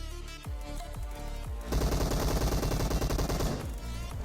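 Rapid automatic gunfire from the mobile battle-royale game PUBG Mobile, a few separate loud shots at first, then a dense continuous burst of fire that runs for a couple of seconds and fades.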